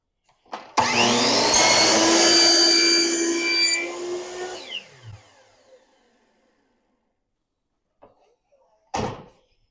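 A compound miter saw spins up and cuts through a wooden board in a loud, whining burst of a few seconds. The blade then winds down, followed by a couple of short knocks in a quiet workshop.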